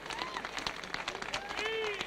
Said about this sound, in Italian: Gli facciamo un applauso al figlio di Mario